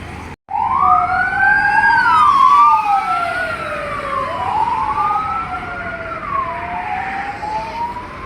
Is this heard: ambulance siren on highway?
yes